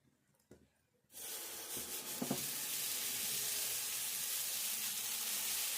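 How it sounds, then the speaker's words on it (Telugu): Dosa batter, made with dried ingredients, hits a hot pan rubbed with onion and bursts into a loud, steady sizzle that holds to the end after a brief quiet start. "ఇప్పుడు దోశ వేసుకుందాం"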